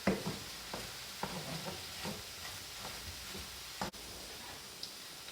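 Ground beef browning in a pan for taco night, stirred in soft irregular scraping strokes over a faint, steady sizzle, with no one talking.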